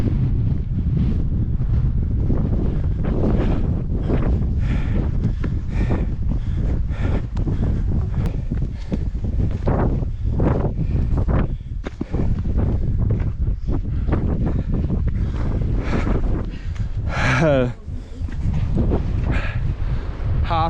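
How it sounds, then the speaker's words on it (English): Strong wind rising on Harter Fell in the Lake District, cold and misty, loud steady buffeting against the microphone with rumbling gusts throughout. "Feel that wind starting to come in."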